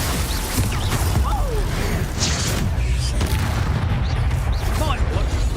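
Confringo explosive spell in a Hogwarts Legacy duel, repeated booming blasts and crackling impacts within a busy combat mix, with voices talking throughout.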